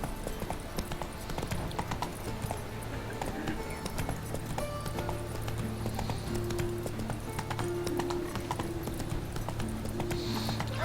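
Roach the horse gallops in Witcher 3, rapid close clip-clop hoofbeats running steadily throughout, with a whinny and game sounds layered over the rhythmic pounding.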